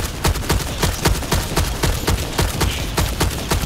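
Rapid back-to-back gunfire in a shooter video game, loud sharp repeated shots in a fast regular rhythm, nearly continuous with no talk over it.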